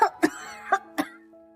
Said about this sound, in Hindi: खांसने की एक्टिंग करते हुए कहा